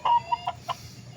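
Fighting cock being conditioned for cockfighting, giving a few short, fairly close clucks spaced through about a second over a low background hum.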